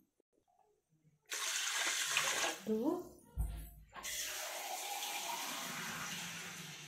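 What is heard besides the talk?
water poured into rice for soaking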